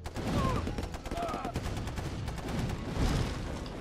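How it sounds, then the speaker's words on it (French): Dense artillery and gunfire in the Red Alert Remastered strategy game, rapid overlapping blasts and rattling bursts in a steady barrage at moderate level, with faint game voices mixed in. "Il y a tellement d'artillerie là"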